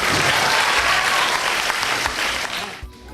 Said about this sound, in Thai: ปรบมือให้น้องด้วยครับ